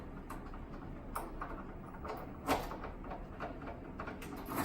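Key rattling and scraping in a hotel room door lock, a few faint metallic clicks and one sharper tap over low room noise, close by.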